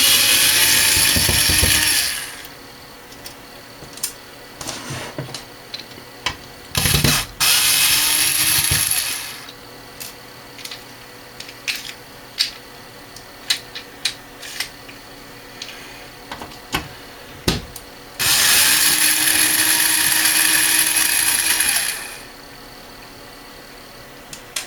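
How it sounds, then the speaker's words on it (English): Screws being removed from a power supply cover with a power tool: several bursts of whirring driver noise, mixed with small ticks and clicks from handling the screws and metal case, with no voices. "So, just going to take the screws out and have a look inside."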